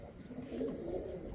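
Belgian pigeons coo softly with a low, rolling, throaty call, close by and fairly quiet.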